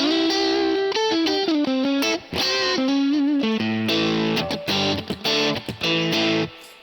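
An electric guitar through an amp simulator set to a Deluxe Reverb–style tone plays a melodic run of notes and chords with a warm, slightly driven sound, up close and alone.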